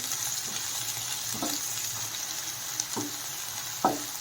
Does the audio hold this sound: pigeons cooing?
no